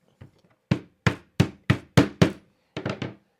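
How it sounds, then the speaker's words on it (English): A small hammer taps bearings into friction-fit modular animatronic parts: about nine sharp, close knocks, a few faint taps first, then a steady run of blows, a short pause, and a quick final cluster of three. "I usually carry a cute little small hammer, which I use to pop in those bearings."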